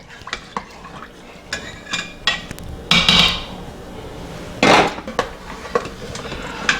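Gumbo of chicken and sausage with vegetables and stock being stirred in a pressure cooker pot, giving scattered clinks and scrapes of a utensil against metal with a couple of louder sloshing bursts.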